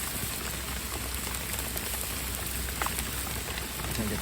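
Steady rain pours down outdoors while a burger is cooked in the open, a dense close patter of drops on surfaces throughout, with a few sharper taps and faint sizzle-like crackles mixed in.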